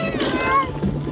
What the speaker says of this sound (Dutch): Ga van mij af, stomme kat!